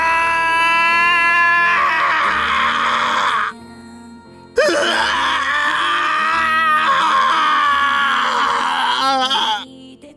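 A man's anguished scream of pain from the video game Umineko, loud, drawn-out and strained, breaking off briefly before a second long agonized cry that trails away, set over music.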